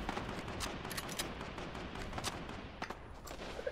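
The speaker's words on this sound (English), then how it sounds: "I hear like a thousand shots." Dense, overlapping gunfire in the Fortnite battle royale game, with many rapid shots crackling at mid distance in a continuous barrage and a few sharper, louder cracks standing out near the end.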